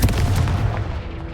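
A Confringo blasting spell explodes in Hogwarts Legacy, a dense booming blast that rumbles loudly and then decays through a fading tail, with no voices over it.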